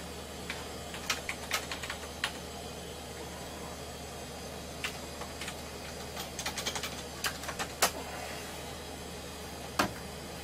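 Keys pressed on a 486 computer keyboard, a scattered run of sharp clicks and taps, some quick bursts and isolated presses, fairly close over a steady hum with no talking.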